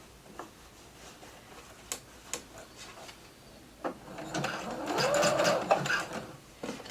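A sewing machine stitching elastic onto knit fabric, with a few isolated clicks and taps before a short, moderately loud run of stitching near the end, then quiet handling.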